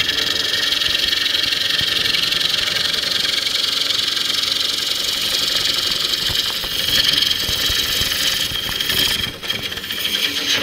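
A bowl gouge cuts a spinning wooden bowl on a lathe, giving a steady loud hissing and whirring drone with a continuous motor hum under it and a slight rise in scraping intensity toward the end.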